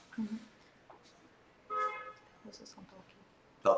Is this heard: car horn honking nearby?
yes